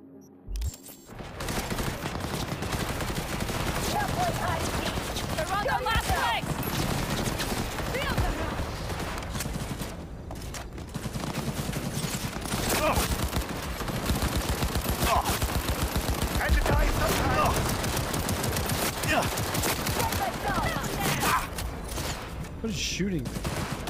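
Gunfire from the video game Cyberpunk 2077, rapid bursts of shots running almost continuously and loudly, blended with game music and effects, with a voice talking over parts of it.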